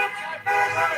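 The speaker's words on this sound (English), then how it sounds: "They are honking." Car horns toot in a short burst on a street, loud and close, with a brief dip and then a sustained blare, while voices are also present.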